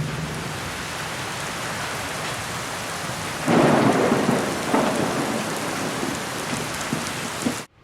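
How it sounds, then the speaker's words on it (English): Steady, heavy rain pours down in a broad hiss while thunder rolls in with a loud swell midway through, then the downpour continues before cutting off abruptly. "God closed the door behind them and it began to rain."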